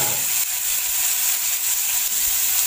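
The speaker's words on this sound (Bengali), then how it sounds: "2 থেকে 3 মিনিট ধরে শিমটা আমি ভেজে নেব।" Flat beans fry in a pan, a steady close hiss of sizzling oil that holds evenly for a few seconds with no voices.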